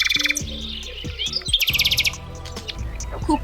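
A nightingale sings alone in a varied phrase of rapid chirps, whistled notes and trills, bright and close, with short gaps between bursts.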